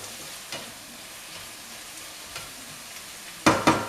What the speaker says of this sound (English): you have to mix all these ingredients together with the onion and the tomato